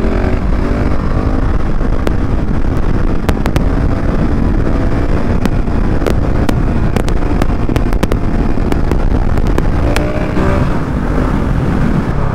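A KTM SMC R 690 motorcycle ridden at about 70 km/h in third gear gets a throttle blip, its engine note rising under heavy, constant wind roar, with sharp crackling ticks throughout.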